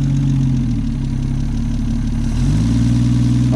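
A classic Holden EJ car engine idling up close, a loud steady low rumble whose pitch shifts slightly partway through as the idle settles, with no talk over it.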